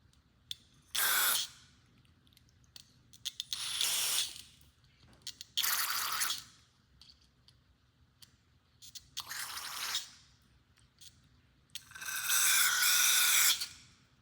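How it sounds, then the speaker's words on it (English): Carb cleaner sprayed from an aerosol can into a lawnmower carburetor, heard as several hissing bursts of varying length separated by pauses, close and fairly quiet, with small clicks in between. "I'll take my carb cleaner and spray everything out."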